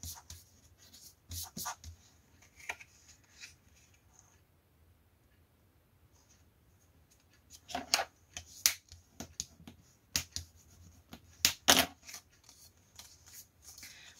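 Paper for a scrapbook album page is creased and folded, giving scattered crisp rustles and sharp clicks, quiet at first and then a denser cluster of taps and crinkles.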